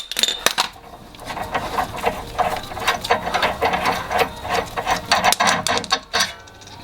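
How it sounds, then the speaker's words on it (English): An 18mm wrench and a 6mm hex key turn on the top link of a TeraFlex front swaybar quick disconnect on a Jeep. Rapid ratcheting clicks and metallic ticks sound close and continuous, with no talk. "we're holding it with an 18mm wrench, and we're using a 6mm hex key"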